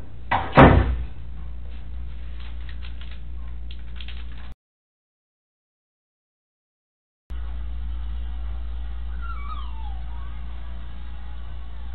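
A door thuds sharply once near the start, followed by a hushed room hiss, a gap of silence, then faint background noise with a distant siren-like wail.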